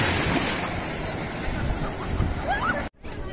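Gentle sea waves wash and break at Mandarmani beach in West Bengal, a loud, continuous surf roar with wind buffeting the microphone and a brief dropout near the end.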